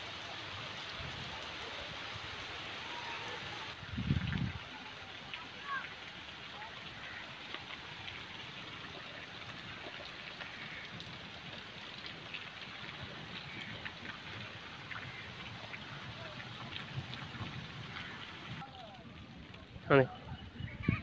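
Steady, soft rainfall patters in the background in a village, with roof drainpipes running, occasional faint knocks and a brief clatter near the end.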